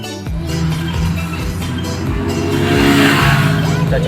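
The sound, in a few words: Daihatsu Ceria car accelerating in second gear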